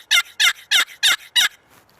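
A mahogany box call with a bloodwood lid sounds five sharp, evenly spaced turkey yelps, loud and close, ending in a faint trailing note.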